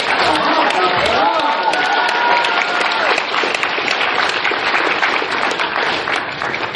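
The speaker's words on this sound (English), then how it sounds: "Applause." Loud, sustained applause from a fan convention audience fills the space for several seconds, dense clapping with scattered cheers and voices mixed in at a steady level throughout.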